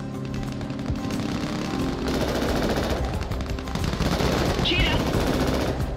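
Gunfire from the video game Crossfire Legion sounds as dense, continuous machine-gun bursts and overlapping shots, loud and close, with a voice calling out over the din.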